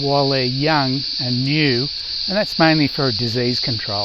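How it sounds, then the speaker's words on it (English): Someone talks steadily outdoors near a bee swarm on a spring day while a constant, high-pitched buzzing drone of cicadas hums in the background. "You can hear the cicadas in the background."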